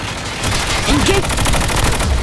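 Rapid automatic gunfire in a hardcore Alcatraz round of a battle royale video game, loud, dense and continuous, with a voice speaking briefly underneath.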